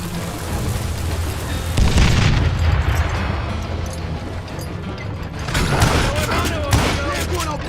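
Gunshots and booming blasts in the Call of Juarez Gunslinger western video game, several loud reports amid continuous battle noise, with a voice talking over the action.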